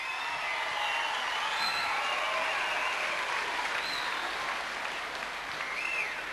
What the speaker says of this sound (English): Come on, a bit more applause